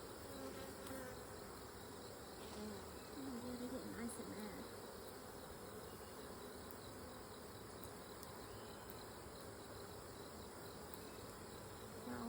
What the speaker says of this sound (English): These bees in here.